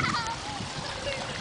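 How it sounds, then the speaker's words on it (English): A child splashes and jumps in rain puddles outdoors, making a continuous wet, splattery wash of water throughout, with a voice faintly audible underneath. "Splash and jump,"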